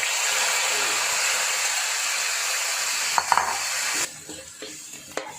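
Aromatics frying in a pan for a northern Thai edible-leaf dish, a loud steady sizzle that thins out partway, with a few utensil clinks toward the end.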